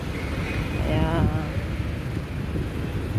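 Gusty wind buffets the microphone during an outdoor walk on a cool, breezy day, a loud low rumble that holds steady throughout, with a faint tonal whistle partway through.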